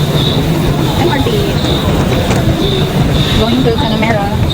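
A Singapore MRT train runs with a continuous loud rumble and faint squealing wheel tones throughout, steady and close by with no clear pauses.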